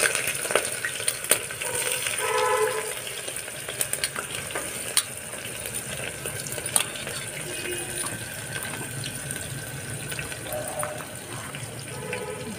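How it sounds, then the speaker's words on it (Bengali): Onions and dried red chillies frying in hot oil, a steady close sizzle with occasional stirring clinks and scrapes throughout, no talk. "তেলটা হয়ে গেছে, এর মধ্যে এই পেঁয়াজ আর শুকনো লঙ্কাগুলো দিলাম।"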